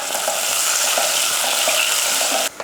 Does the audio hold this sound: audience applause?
no